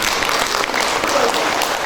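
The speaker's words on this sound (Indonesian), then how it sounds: "Tepuk tangan dulu, sekali." An audience at an Indonesian inauguration ceremony in Dumai breaks into dense, steady applause, loud and close, lasting a couple of seconds with no talk over it.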